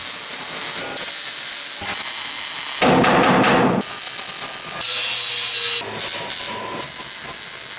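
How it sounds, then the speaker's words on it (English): A power tool cuts about a quarter inch off a metal body panel on an airport limousine being built. Loud close bursts of harsh cutting alternate with a steady background whine, the cuts starting and stopping several times, no talking. "need to cut about what looks like a 1/4 inch off of there"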